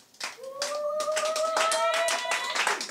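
A church congregation claps in fast, steady rhythm to acclaim Jesus, the dense claps carrying on throughout with a sustained voice crying out over them.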